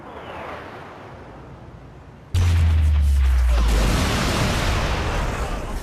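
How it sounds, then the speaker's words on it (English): Airstrike explosions in the video game Saints Row: The Third, set in an open-world gang firefight: a sudden, massive boom lands midway and grows into a loud, sustained roaring rumble that lingers to the end. "instead, we could call it an airstrike"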